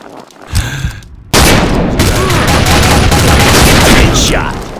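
Video game shooter gunfire: a dense, loud burst of rapid automatic shots that starts abruptly and keeps going without a break, with game sounds and a voice faintly underneath.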